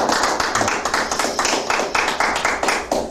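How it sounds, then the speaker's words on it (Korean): Small gathering claps together at a Korean talk program, rhythmic unison clapping in a steady beat of roughly four claps per second, close and fairly loud, with no talk over it. "박수 한번 부탁드리겠습니다"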